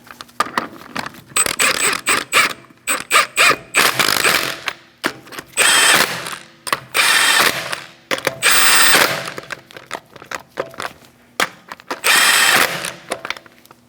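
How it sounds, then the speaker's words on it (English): A ratchet tightens lug nuts on a Chevrolet Sonic wheel in loud, close bursts of rapid clicking, separated by short pauses between turns. "We're going to tighten up our lug nuts."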